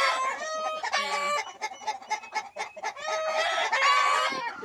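Heritage chickens on a Mindanao farm, including Barred Rock, Light Sussex, Buff Plymouth Rock and Rhode Island Red, cluck busily at close range while a rooster crows loudly through the clucking, with no talk.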